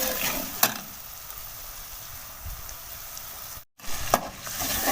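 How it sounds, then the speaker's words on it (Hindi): Ground coriander and black pepper frying in a pan with a little water added for moong daal, a steady close sizzle with a couple of sharp spikes and a brief break near the end. "अब हम इनकी बुनाई कर लेते हैं थोड़ा थोड़ा पानी डाल के।"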